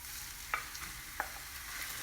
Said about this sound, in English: I'm going to dry fry this